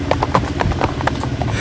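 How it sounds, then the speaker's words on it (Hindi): A mare's hooves clip-clop across a field at night, a quick, fairly loud run of close hoof strikes in uneven rhythm over a low rumbling background. "सालों पहले एक घुड़सवार मिगेल रात के अंधेरे में खेत पार कर रहा था जब उसकी घोड़ी अचानक लड़खड़ा गई।"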